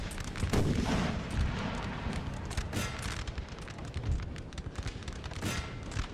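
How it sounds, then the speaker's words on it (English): Artillery fires in the Napoleon Total War video game, with repeated booming cannon shots and crackling volleys scattered over a dense battle din. The fire sounds mostly distant and moderately quiet, and no one speaks. "Keep my artillery firing on reasonable targets."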